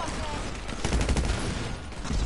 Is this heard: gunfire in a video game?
yes